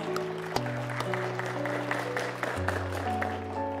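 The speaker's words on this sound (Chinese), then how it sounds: "并再一次响起你们最最热烈的掌声" Applause for a bride and groom at a wedding ceremony: steady clapping from a crowd mixed with sustained music, continuous and moderately loud for the whole stretch.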